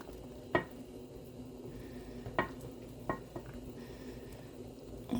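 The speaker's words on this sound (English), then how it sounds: "you're gonna put them back into the sauce" Meatballs being returned to a sour cream sauce in a pan, heard as a few soft clinks and scrapes of a utensil against the pan over a quiet, steady background.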